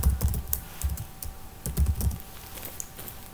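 Someone types C++ code on a computer keyboard, giving quick uneven clusters of close, crisp key clicks with short pauses between bursts.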